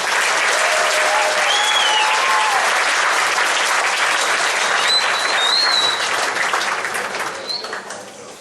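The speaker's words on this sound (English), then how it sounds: "Big round of applause for every one of them." Dense, loud applause from a large audience at an orchestra event, steady for several seconds before gradually tapering off, with faint bird-like chirps in the background.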